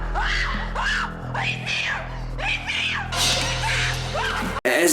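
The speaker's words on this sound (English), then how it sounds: "one of the most excruciating screams I have heard in a movie ever" An excruciating scream from the 1988 action slasher Maniac Cop comes as several loud, drawn-out wails in succession. Film soundtrack noise sits underneath, and the sound cuts off sharply at the end.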